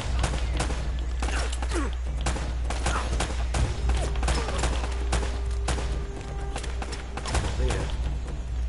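Rapid gunfire bursts from the Uncharted video game crackle almost continuously over a low rumble, with a person speaking faintly at times.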